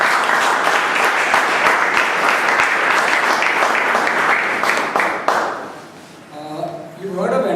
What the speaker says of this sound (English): A big round of applause first of all to the MC for the day.